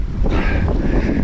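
Strong wind buffets the microphone on an open shore, a loud continuous roar and rumble with no pauses.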